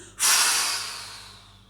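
A single forceful exhale after a held breath during a relaxation exercise, a sudden loud breathy rush that fades slowly over more than a second, close and alone.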